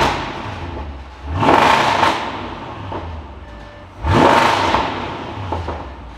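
A stage 1 tuned Audi S5 engine revving, two sharp throttle blips with a roaring rise and fall, each settling back to a low idle rumble, close and fairly loud.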